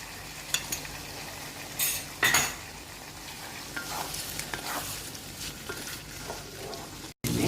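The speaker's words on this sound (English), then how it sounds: "I'm going to add about 3 big spoons of the prawn stock" Liquid stock poured into a hot pan of sambal for prawn petai, raising a steady sizzle and frying hiss with a few bursts of stirring and utensil scrapes against the pan, close and alone.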